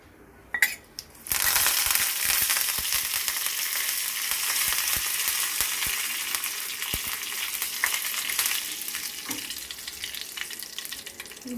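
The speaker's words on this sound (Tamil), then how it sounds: "இப்போ நான் ஸ்டவ் ஆஃப் பண்ணிட்டு கருவேப்பிலை சேர்த்துடுறேன்." Curry leaves hit hot oil with mustard seeds and urad dal, setting off a loud burst of sizzling that settles into a steady, crackling fry for a South Indian tempering.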